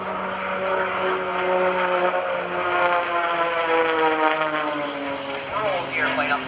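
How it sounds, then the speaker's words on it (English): Kevin Coleman's aerobatic airplane flies the Raptor maneuver at the 2012 NAS Oceana Airshow, a loud propeller engine drone with steady harmonic whine that shifts pitch as it rolls upside down, heard alone without talk. "Rolls the airplane upside down."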